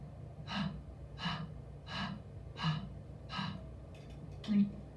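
A person imitates a dog's panting with five or six rhythmic, breathy huffs, evenly spaced, close to the listener.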